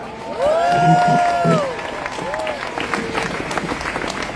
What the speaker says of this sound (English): A big round of applause, everyone, for Jasmine Duff.